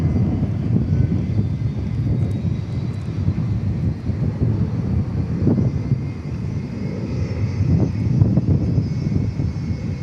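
A Qantas airliner taxiing at Dallas Fort Worth Airport gives a steady low engine rumble with a faint high whine, heard at moderate distance with slight swells, no talk.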